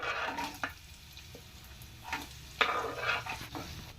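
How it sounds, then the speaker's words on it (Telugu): Thinly sliced onions frying in a pan with mustard seeds and dried red chillies for a snake gourd milk curry, a close steady sizzle broken by a few scraping stirs of a spoon against the pan. "ఆనియన్స్ వేగుతున్నాయి కదా"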